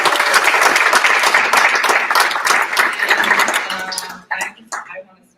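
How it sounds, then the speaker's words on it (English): An audience at a cannabis-event panel gives a dense, loud round of applause lasting about four seconds before tapering off into a few scattered claps and crowd noise. "Please give a round of applause to my panel and warmly welcome them."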